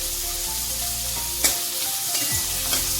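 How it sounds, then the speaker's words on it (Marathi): Chopped onions sizzle and crackle steadily in hot oil in a pan, a continuous close frying hiss with a few brief sharp pops and stirring scrapes, no voices. "आता कांदा मस्त लाल होईपर्यंत तयार करून घ्यायचं."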